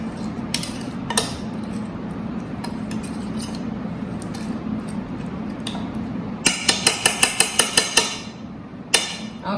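Chopped mint (pudina) is stirred in a cooking pot with a utensil, giving scattered metallic scrapes and knocks that build into a quick series of sharp clinks near the end, over a low kitchen hum.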